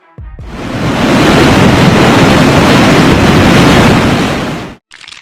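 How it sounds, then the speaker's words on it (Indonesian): Floodwater rushing from the overflowing Ganges river in the Purvanchal region of India: a loud, dense, continuous roaring wash that swells in, holds steady for several seconds and cuts off abruptly, with no voices. "Banjir luapan Sungai Gangga."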